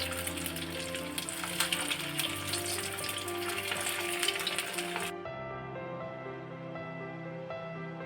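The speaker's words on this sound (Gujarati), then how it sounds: "તેની અંદર તેલ પણ આપણું ગરમ થઈ ગયું છે હવે આપણે એક એક પેટીસને મૂકતા જશું" Potato patties hiss and crackle in hot oil in a kadai, a close, fairly loud sizzle for about five seconds that then drops to a quieter background hum.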